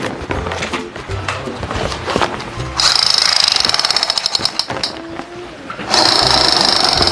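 A toy gun fires in rapid rattling bursts, a fast metallic clatter that starts and stops twice, loud and close.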